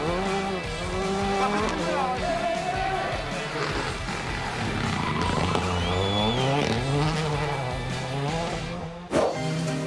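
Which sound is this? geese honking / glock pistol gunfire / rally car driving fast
rally car driving fast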